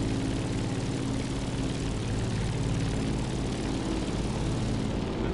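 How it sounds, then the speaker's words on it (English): Propeller engine of an old 1942 plane in a video game, a loud steady droning hum with a rhythmic low throb that holds without pause and with no talking. "It's an old plane from 1942. Sounds like this."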